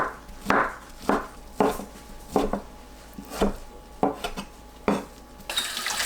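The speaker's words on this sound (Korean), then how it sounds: "동그랑땡 6개를 썰어주세요." Knife slicing through cooked dongeurangttaeng, Korean meat patties, on a cutting board, with about nine distinct sharp chops spaced at a steady, unhurried rhythm, close and clear with no talking.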